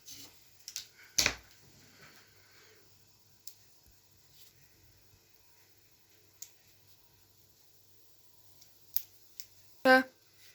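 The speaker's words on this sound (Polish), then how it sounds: "Więc złożyłam na pół i wycinam już bez rysowania od razu małe kółeczka." Scissors snipping small circles from folded black paper, a few isolated crisp cuts and ticks spaced apart in a quiet room, with one louder snip near the end and no talking.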